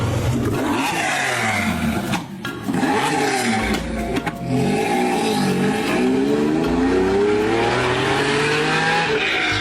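A Lamborghini Diablo, the Italian mid-engine sports car, drives loudly and close, its engine note rising and falling through gear changes with brief tire squeal, with no talk.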